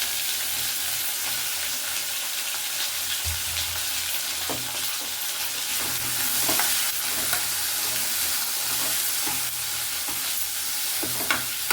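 Green chilies and onion fry in a pan for dal sambar, a steady bright sizzle with periodic scraping and tapping of a spatula, close and continuous with no one speaking.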